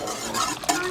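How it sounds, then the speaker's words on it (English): Flour being whisked into milk in a pot for homemade mac and cheese, a brief, fairly steady stir with soft scraping and a small knock near the end. "And I'm going to whisk it again real good."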